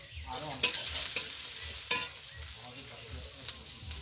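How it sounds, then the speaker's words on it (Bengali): Spices and salt fry in a pan for an oat dish, a soft steady sizzle broken by a few sharp scrapes and taps of a stirring spoon. "এগুলো একটু ভেজে নেব।"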